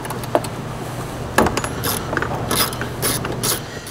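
A hand ratchet works on 10 mm bolts holding a factory air box in a car engine bay, giving scattered clicking and ratcheting bursts over a steady low hum.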